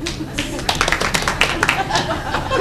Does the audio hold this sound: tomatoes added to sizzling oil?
no